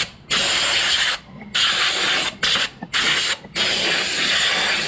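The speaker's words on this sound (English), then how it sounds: "so I have the air hose out before we open anything else up" Bursts of compressed air from a hose blow dirt off a 2016 Ford F-150 engine during intake manifold and water pump work, loud hissing blasts separated by brief pauses.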